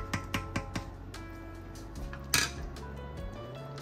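Utensil scraping and clinking against a pot while beef goulash is stirred, a run of sharp metallic taps in an irregular rhythm, close and fairly quiet over a low steady hum.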